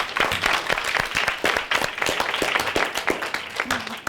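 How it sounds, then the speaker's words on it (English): An audience at a girls' empowerment event claps for a woman, in dense, lively applause with sharp individual claps up close, steady for several seconds. "Let's give her another round of applause"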